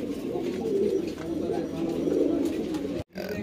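A Chinese breed fancy pigeon held in the hand coos close by in a steady, throaty stream that runs for about three seconds, breaks for a moment, then resumes.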